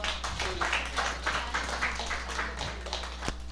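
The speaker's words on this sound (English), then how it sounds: "Let us give it another round of applause" Crowd applause at a formal opening ceremony after a memorandum signing, a steady dense wash of clapping from many hands, moderately loud and sustained throughout with no talk over it.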